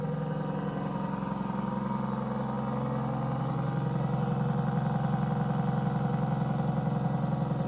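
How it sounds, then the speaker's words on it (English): 2025 Aston Martin Vanquish V12 idling outside the car, a steady, deep, loud burble with a constant mechanical hum that holds evenly throughout. "Let's go hear that idle from outside now."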